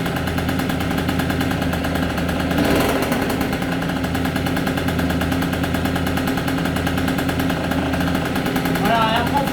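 An MBK Booster 70 scooter with a Malossi kit warms up at idle, its engine producing a steady, loud two-stroke burble that stays continuous throughout, with a slight flare near the middle.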